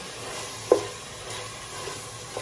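Hotdogs and corned beef cook together in a pan, a quiet steady sizzle with a single clack of a utensil against the pan as they are stirred.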